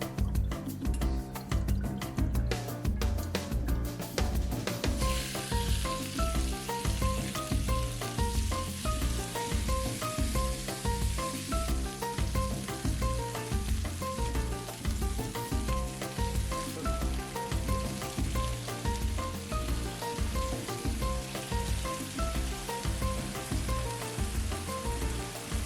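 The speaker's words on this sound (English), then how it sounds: "Time to grill them." Mojo-marinated steak sizzles on a grill in a steady, loud hiss that runs without a break, layered under a rhythmic musical backing that pulses evenly throughout.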